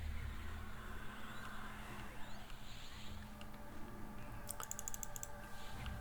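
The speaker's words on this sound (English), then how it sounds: "I keep fat fingering the keys." Keys clatter on a computer keyboard during a session of the online game Project 1999, a quick burst of clicks toward the end over a steady low background hum.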